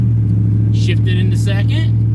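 A car with an LS engine pulling away in first gear, its low steady engine drone running loud throughout while a person talks over it.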